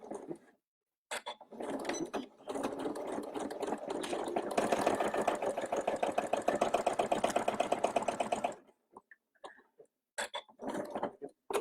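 A sewing machine runs close up, making securing stitches forward and reverse with contrast thread on a knotted headband: a fast, even mechanical whirr and stitch clatter held for several seconds, then short bursts after pauses.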